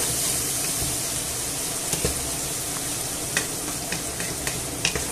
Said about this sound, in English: I'll mix that all in